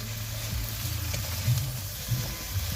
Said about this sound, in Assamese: এতিয়া আলু দিয়াৰ পিছত মানে ভালকৈ ভাজি ল'ব লাগিব আধা ঘণ্টামান